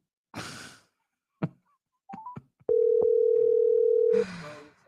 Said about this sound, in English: Okay, let me call you back, Kathleen.